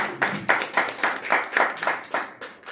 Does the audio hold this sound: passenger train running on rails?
no